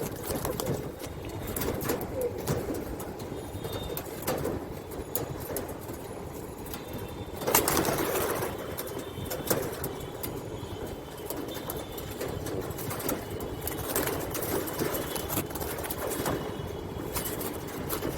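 Black pigeons, including a hen, cooing steadily through the whole stretch under a constant background hum, with a louder burst of fluttering or movement midway.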